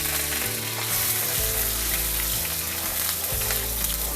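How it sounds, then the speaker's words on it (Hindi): Butter added to hot oil while cooking beef chilli sizzles and fries steadily, a loud continuous crackling hiss close up, with faint stirring clinks and no talk. "ऑयल को कम करने के बाद इसमें शामिल किया थोड़ा सा बटर।"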